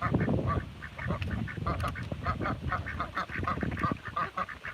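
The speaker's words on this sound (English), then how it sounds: "So, got the ducks out," Farm ducks on a rural South Dakota farm quacking and honking in a busy, overlapping chorus, loud and close, with calls coming in rapid irregular bursts throughout.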